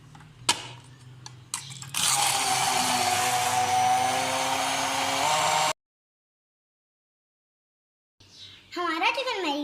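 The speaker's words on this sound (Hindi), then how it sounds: "अब हम टमाटो की प्यूरी बनाएंगे।" A blender pureeing tomatoes roars loudly and steadily for about four seconds, then cuts off into silence before a voice speaks near the end.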